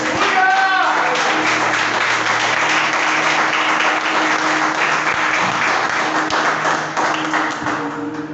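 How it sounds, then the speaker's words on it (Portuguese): Sustained audience applause at a church gathering, loud, dense clapping filling the whole stretch without pause and tapering slightly at the end. "aplaudam a palavra de Deus"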